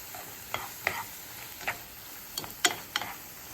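Tofu scramble cooking over medium heat in a pan, a soft continuous sizzle broken by scattered sharp utensil taps and scrapes at irregular intervals, close but faint, with no speech.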